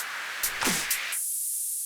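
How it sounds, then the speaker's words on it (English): White noise riser synthesized in Ableton Operator, a bright hiss swelling through a couple of bursts before settling into a sustained high-pitched wash, heard alone without talk. "Even the risers are just white noise and operator."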